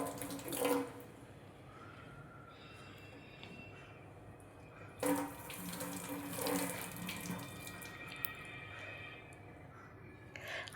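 Radishes being rubbed and washed under a running kitchen tap, a quiet continuous water flow with a few louder splashes and handling bursts.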